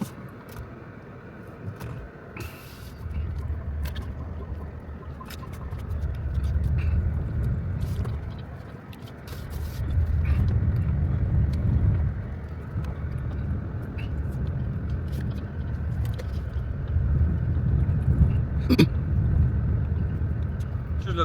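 A car driving along a road, with a low, steady engine and tyre rumble that swells and eases from inside the cabin. Occasional clicks and knocks sound over it, and someone talks at times.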